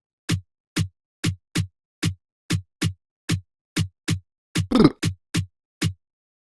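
A dry rim-drum sample in FL Studio, panned left, clicks in a steady, syncopated Bongo Flava loop, about a dozen short hits, with one noisier, louder hit near the end.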